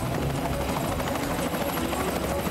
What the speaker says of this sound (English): Oh, goddamn helicopter.